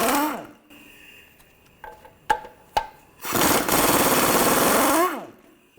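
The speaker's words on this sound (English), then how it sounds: "Remove these two nuts, use a" An impact wrench fitted with a 15mm socket drives off engine mount nuts on a 2006-2011 Cadillac DTS. It opens with a few short sharp hits, then gives one loud, sustained buzzing run of about two seconds that winds down at the end.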